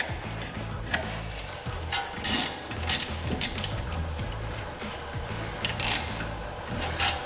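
A ratchet tightens the brake caliper bolts on an Audi TT MK3. Close ratcheting clicks come in short runs, broken by a few sharper metallic knocks, with no speech.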